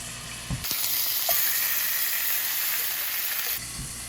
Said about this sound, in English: I'm going to let these simmer away